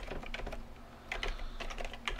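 Fast, close clatter of keys on a computer keyboard while C code is entered, with bursts of keystrokes over a low steady hum.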